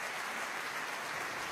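Concert audience in the Dresden Frauenkirche applauding after an Advent concert, a dense, steady wash of clapping throughout with no voices.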